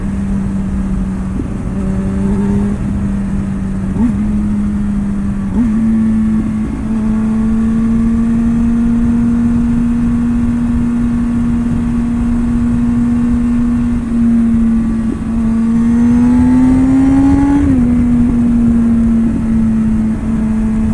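A motorcycle engine revs steadily and loudly, holding a droning pitch that rises briefly near the end before settling back, with occasional pops.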